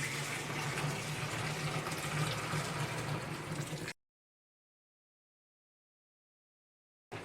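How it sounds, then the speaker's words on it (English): Hot water pours steadily into a home-brew beer fermenter for about four seconds, a loud, close gushing fill that then cuts to silence before a brief return at the end. "After you've cleaned up the mess, time to add the hot water."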